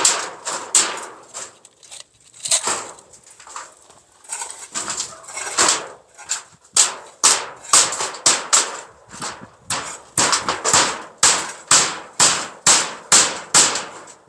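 Nails are driven with a hammer while a fence is being built. Sharp, close strikes come in irregular clusters, then settle into a steady, evenly spaced rhythm.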